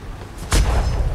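A single ship's cannon booms from a broadside in the pirate sailing game Atlas, one loud blast at close range with a rumbling low tail, and no talk over it.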